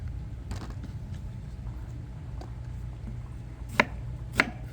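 A knife chops onions into big chunks, landing a few sparse, irregular cuts, with two crisp, louder strikes near the end, over a steady low background rumble and no talking.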